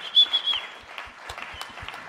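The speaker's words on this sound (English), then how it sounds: "So give her a round of applause, y'all." Sparse, scattered clapping from a small audience at a live arts and homelessness panel event, a few distinct claps over faint room noise with a steady high whine.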